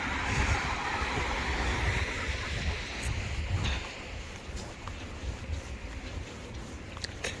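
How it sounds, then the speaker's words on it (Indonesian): A Turkish high-speed train roars past nearby in Konya, Turkey, a loud broadband rush that eases into a lower, steady rumble as it moves away. "Ini kereta cepatnya orang Turki nih."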